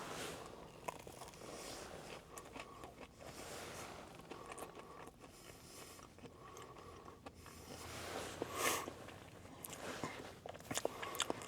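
Quiet crunching bites and chewing on a Burger King Cheesy Bacon Tot, soft irregular close-up crunches with small rustles and one louder bite partway through, no talking.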